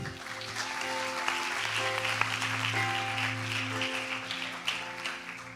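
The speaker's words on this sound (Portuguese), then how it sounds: "Aplauda Jesus" Church congregation applauding for Jesus, a steady wash of clapping under sustained organ or keyboard chords, moderately quiet and continuous throughout.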